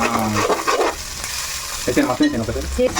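Spices and crab curry stirred in a hot pan, with loud close sizzling and frying alongside scraping strokes of a spoon, continuous with no talking.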